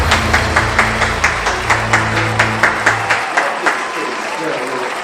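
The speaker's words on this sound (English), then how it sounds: "The applause, you know, well deserved, right?" Applause from a crowd, dense and steady with rhythmic claps over a low tonal bed for a few seconds, thinning toward the end with a voice speaking over it.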